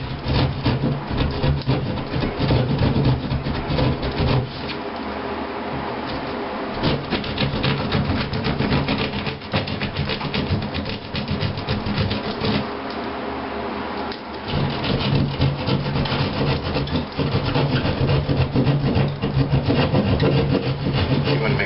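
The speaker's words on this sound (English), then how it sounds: "just go ahead and go cut that particular sheetrock" Continuous rasping saw strokes cut a small square out of sheetrock drywall while repairing a hole in a wall, a steady scratchy grinding that runs nearly unbroken, with brief easing around the middle.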